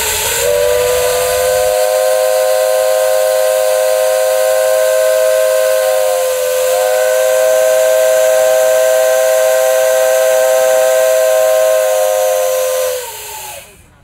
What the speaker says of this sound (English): The whistle was used to announce that the separator was ready to go.